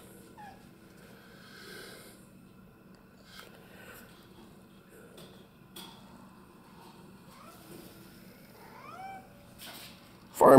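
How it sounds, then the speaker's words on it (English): Farm cats meow in scattered, rising calls at a moderate distance over quiet morning ambience, ending with a louder, close burst of noise. "Farm cats."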